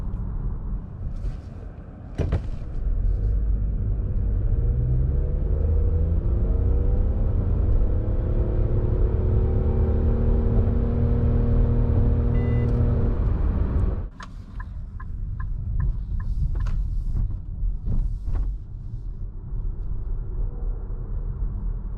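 A Nissan Qashqai e-Power Tekna+ 2023 accelerating hard to 100 km/h, a steady loud cabin rumble with a rising electric whine that climbs for about twelve seconds, then drops off into quieter cruising with a few clicks.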